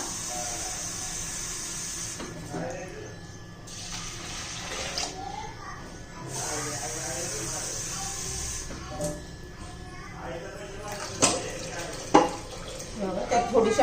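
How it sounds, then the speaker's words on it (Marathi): Water pours and splashes into a metal pressure cooker holding washed dal in bursts, with a hissing flow, a few clanks near the end. "त्यात पाणी घालायचं आता"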